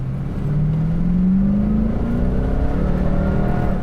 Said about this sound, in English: we're gonna try some acceleration run here